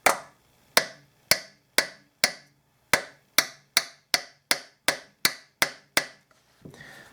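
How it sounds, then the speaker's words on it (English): Sharp metallic taps on a bent saxophone key guard being straightened, about a dozen crisp hits in a steady, slightly quickening rhythm, each close and loud with a short ring, ending in a soft rustle. "So I'm going to tap on that."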